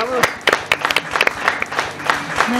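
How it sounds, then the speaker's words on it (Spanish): Television studio audience applauding during a Mexican music program, scattered bright claps forming a short burst of clapping under a voice that carries on talking. "Un bravo, aplauso."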